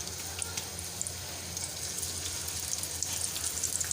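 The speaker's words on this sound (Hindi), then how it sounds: "और इसी तरह बाकी के जो कबाब हैं उनको भी हम करेंगे फ्राई।" Chicken chapli kababs fry in hot oil with a soft, constant crackling sizzle that stays fairly quiet throughout.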